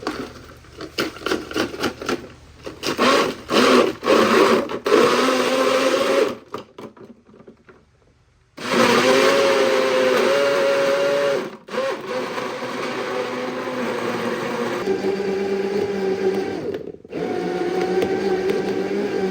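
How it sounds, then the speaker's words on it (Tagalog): A blender crushing pineapple chunks and ice roars in short pulses, then a pause, then runs continuously with a grinding, churning whir that shifts pitch as it chops. "Para nga sa blender na gamit namin, na less than in a minute nga, nadurog niya na yung malalaking chunks ng pineapple"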